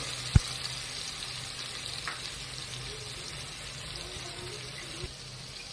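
Ground spice paste fries in hot oil with a soft, steady sizzle, a single sharp clack of a utensil early on and occasional faint stirring sounds, close and moderately quiet.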